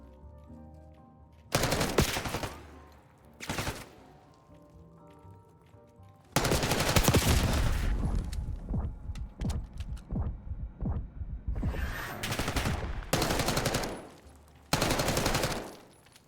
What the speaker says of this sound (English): Whenever you're ready, let's try this gunfight.